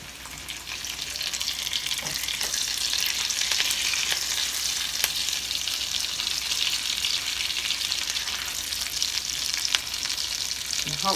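Potato pancakes thickened with flour fry in hot oil with a loud, continuous close sizzle and crackle, broken by a few faint clicks of utensils, and nobody talks.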